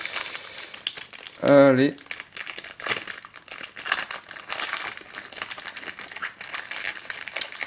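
A Yu-Gi-Oh Legendary Collection card booster pack wrapper crinkles and crumples close up, with a louder rustling burst early on, while a person talks over it.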